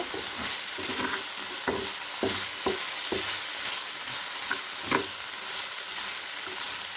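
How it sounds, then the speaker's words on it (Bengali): Winter vegetables and potatoes fry over medium heat, a constant close sizzle broken by several sharp spatula knocks and scrapes against the pan, with no talking. "একটু আবার নেড়ে ছেড়ে দিয়েছি চুলার আঁচটা আমি একদম মিডিয়ামে রেখেছি যেন আলু ভাজিটা না পড়ে যায়"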